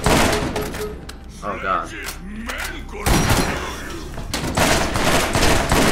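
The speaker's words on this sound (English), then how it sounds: "God, that shotgun's really powerful." Shotgun blasts in the first-person shooter Borderlands, a few heavy booming shots with short rumbling tails amid game noise and a brief exclamation from a player.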